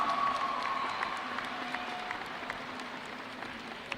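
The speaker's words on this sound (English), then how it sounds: "Clap for her again." A school awards assembly crowd gives a soft, sustained round of applause for a high school graduate's award, fairly distant and quiet, with a faint voice underneath.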